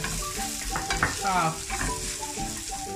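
Onions frying in a pan for a coriander-leaf sambal, stirred steadily: a constant close sizzle with scraping and clinking from the stirring, and no voices.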